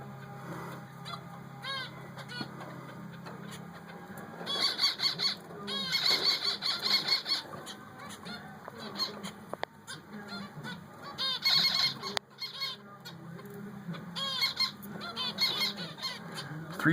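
Baby finches in a nest give repeated high, thin begging calls in short clustered bursts, fairly close, with no talking.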